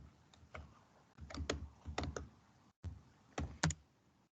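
Typing on a computer keyboard, a handful of soft, irregular key clicks in short clusters with brief pauses, quiet and close, with no talk.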